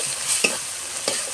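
Pabda fish curry masala being stir-fried in a pan, with two soft scraping stirs over a steady close sizzle and no voices.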